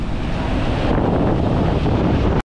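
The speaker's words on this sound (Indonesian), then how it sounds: "Emang gede ombaknya sini." Large waves at Ujung Genteng beach roll in a continuous loud wash, heavy with wind buffeting the microphone, no voices.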